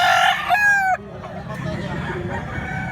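A rooster crows loudly and close by, its call breaking off after about a second, followed by quieter background noise.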